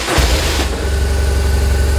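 A 2007 BMW R1200RT ABS motorcycle's boxer engine cranks briefly with a starter whir, then catches and settles into a loud, close, steady pulsing idle.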